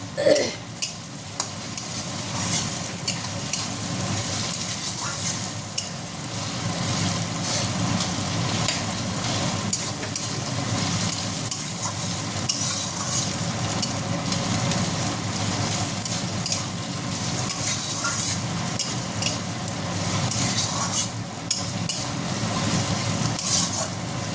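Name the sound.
stirring frying chowmein ingredients in a pan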